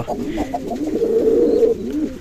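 A male pigeon coos up close in a series of low, throaty, rolling calls that swell into one sustained burbling coo before trailing off. No one talks over it.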